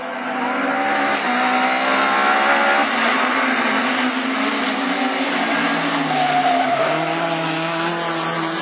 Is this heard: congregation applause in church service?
no